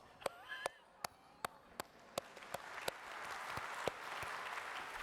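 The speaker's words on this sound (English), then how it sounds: "And there's an applause." Scattered claps at first, building into steadier audience applause that grows louder and denser toward the end.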